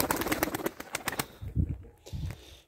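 Pigeon wings flap in a rapid burst, followed by low, soft cooing, close by with no talk.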